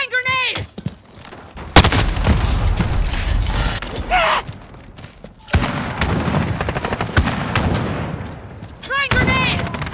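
Gunfire crackles through a Call of Duty Modern Warfare match, with a heavy blast from a thrown grenade amid rapid bursts of shots, mechanical clatter and a player's voice calling out.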